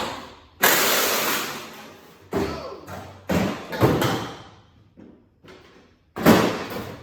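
Several heavy thuds of an Acura RSX dirt race car's door being shut, spaced irregularly, loud and close, with short pauses between.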